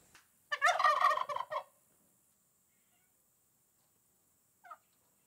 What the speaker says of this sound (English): these turkeys, they get out there in the pasture and really roam around.